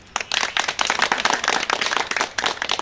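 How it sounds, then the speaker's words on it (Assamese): An audience at a polytechnic college event in Goalpara claps loudly and steadily for nearly three seconds, a dense, continuous wash of many hands close by with no voices over it. "এবাৰ সবাই ডাঙৰকৈ হাত চাপৰি"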